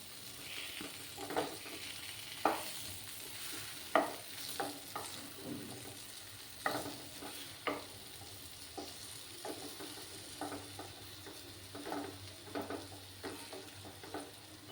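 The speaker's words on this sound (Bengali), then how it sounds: "আরও কিছুক্ষণ আমি একটু ফ্রাই করে নেব তারপর এটা নামিয়ে নেব" Eggplant frying in a pan for steamed brinjal, a soft steady sizzle broken by repeated scraping stirs and light clatters at an irregular rhythm, fairly quiet and close with no talk.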